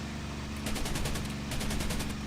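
A P-51D-20-NA fighter fires its machine guns in the IL-2 1946 flight game over the Marshall Islands, two rapid rattling bursts riding over a constant loud engine drone.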